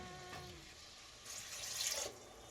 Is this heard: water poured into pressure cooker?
yes